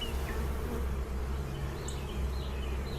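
Honeybees buzz in a continuous low drone around an open hive during an inspection on the Mississippi coast, close and steady with a few brief higher tones and no talk.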